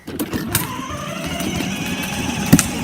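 Steady engine drone of a car while riding, loud and continuous with a few brief clunks and a sharp knock near the end, no talking.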